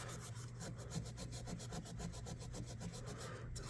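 Rubbing compound is worked back and forth over the reverse side of a slightly rusty knife blade during refurbishing, giving a steady, close rhythmic abrasive rubbing with regular strokes and no talking.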